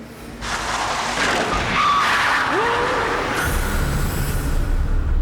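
A Chevy Blazer in a reenactment roars past at speed with a brief tire squeal, under a wash of road and wind noise that swells and stays loud throughout.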